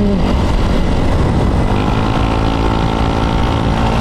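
A motorcycle is ridden through the city centre of Iligan City, giving a steady, dense engine drone with road and wind noise that stays loud and close throughout, with no voices.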